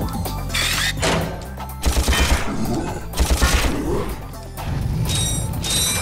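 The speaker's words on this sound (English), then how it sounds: "I'm gonna use the blaster on you." A blaster weapon fires in the Ratchet & Clank video game amid busy game audio, with repeated rapid shots, clattering impacts and mechanical noises, loud and close, with no talking.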